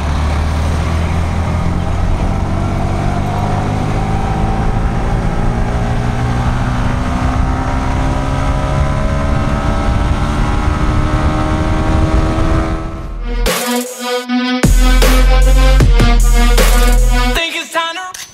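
A Yamaha R15 V3 motorcycle accelerates hard through its gears, the engine note climbing steadily in pitch, then breaking into choppy revs and quick shifts near the end; loud and close, with no talk.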